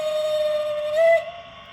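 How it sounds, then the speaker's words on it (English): A short, bright steam-style whistle from an LGB U-type model locomotive with a Zimo MS950 sound decoder, sounding for about a second and rising briefly in pitch before cutting off. "F3 gives you the short whistle."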